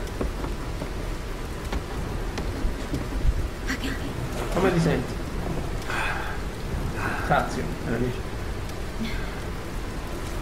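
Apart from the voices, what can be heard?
rain and thunder in video game Tomb Raider Definitive Edition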